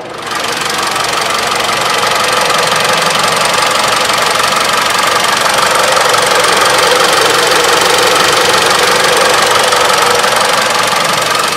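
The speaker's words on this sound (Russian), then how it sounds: "Работа двигателя у этого автомобиля отличная." A Mitsubishi Outlander Sport engine runs steadily at a loud, even idle with a faint rattling knock, continuous throughout with no one speaking.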